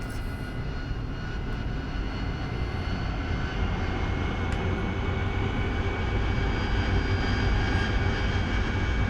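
A Harrier jet engine run up in DCS World, a continuous loud turbine roar with a steady high whine that swells slightly and holds for several seconds.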